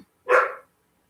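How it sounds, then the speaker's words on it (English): A single bark from a dog indoors, close and fairly loud, with silence before and after. "dog's barking."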